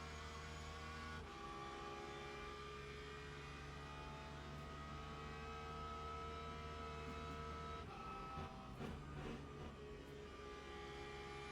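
Race car engine at Spa in Le Mans Ultimate, a steady droning whine with layered harmonic tones held throughout, briefly shifting pitch near the end as if changing gear, with no talk over it.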